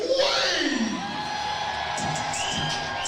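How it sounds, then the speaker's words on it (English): A high school basketball crowd at Woodford County cheers and whoops loudly and continuously as the home starting lineup is introduced in the gym, with yells rising over the roar. "Woodford County starting lineup being introduced to this crowd tonight"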